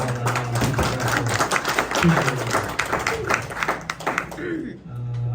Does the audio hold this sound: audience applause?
yes